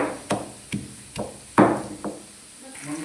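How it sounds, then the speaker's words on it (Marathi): A stone mortar is pounded while making thecha, with five or six heavy, evenly spaced thuds about half a second apart, close and distinct against a quiet background. "दगडाचे उकळे त्यामध्ये बनवते ठेसा."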